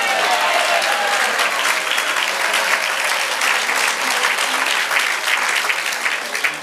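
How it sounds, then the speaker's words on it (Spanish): A church congregation applauding during a sermon, sustained loud clapping from many hands that fills the room evenly and tapers slightly at the end, with faint crowd murmur beneath. "Dale aplauso."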